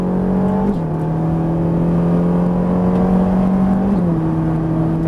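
A Ferrari 458 accelerating hard on the Haut Saintonge race circuit, its engine note rising in steady pitch and shifting at two gear changes, loud and close, heard from inside the car without speech.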